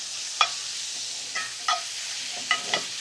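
Small-cut shrimp and calamari sizzling in a pan over an outdoor cooking setup, a steady crackling hiss punctuated by several sharp scraping clatters as the seafood is pushed around.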